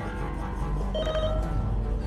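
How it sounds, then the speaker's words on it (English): A telephone rings in The Walking Dead video game, Michonne miniseries: a brief electronic ringing tone over a steady, dense game soundscape with no voices. "Let's go answer the phone."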